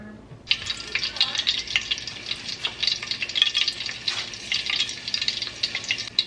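Chicken wings for fricassee fry in a pot, a bright continuous sizzle starting abruptly after a short quiet moment and crackling steadily at close range with small pops.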